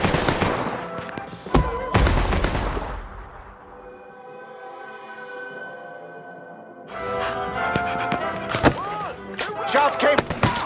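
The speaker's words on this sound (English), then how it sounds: "Shots came." Gunfire in the PC game Mafia III, played on hard difficulty: loud bursts of shots crack early on, a quieter lull follows, then another cluster of sharp reports with voices in the mix.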